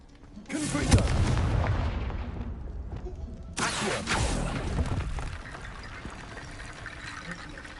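Two heavy booming blasts from the Confringo fire spell in Hogwarts Legacy, the first a loud explosion with a rushing rumbling tail and the second a slightly softer burst that fades away.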